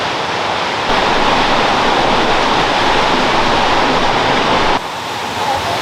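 A waterfall at Silver Falls State Park, Oregon, roars steadily nearby, a dense, constant rush of falling water that fills the whole clip without any break.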